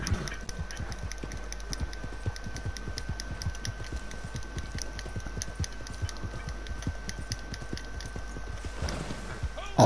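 Horse hooves clip-clop in a video game, a quick, steady run of sharp hoofbeats at moderate distance, with a faint steady tone underneath and a brief burst of noise near the end.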